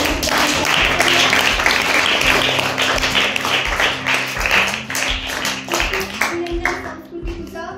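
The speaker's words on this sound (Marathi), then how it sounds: "एकदा जोरदार टाळ्या" Classroom applause for a quiet girl student named as the day's achiever at a girls' school in Selu, a dense, steady clatter of many hands lasting throughout and thinning slightly near the end.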